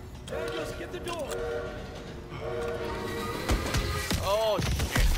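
A steam-era train in the Call of Duty WW2 video game, rumbling and clattering with repeated loud horn or whistle blasts, while soldiers shout over the noise.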